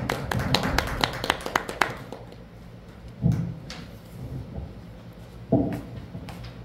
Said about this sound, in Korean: 우리 다 나오실 때 환영하는 뜻에서 우리 한번 박수로 환영하도록 하겠습니다.